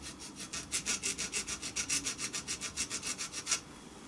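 Hacksaw cutting a marking notch into metal stock clamped for a Gauge 1 live steam garden railway carriage build: a steady run of about twenty rhythmic back-and-forth strokes, close and fairly quiet, with no talking.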